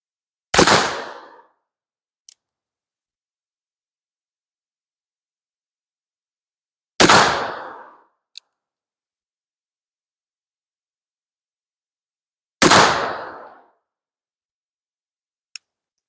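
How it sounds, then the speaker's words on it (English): Three homemade black powder rifle shots, each loaded with 30 grains of slurry-method powder, sound as loud sharp blasts about six seconds apart with decaying booms. A brief click follows each shot, and there is silence in between. "So now let's try 3 rounds of 30 grains of my Terry's Own homemade gunpowder using the slurry method."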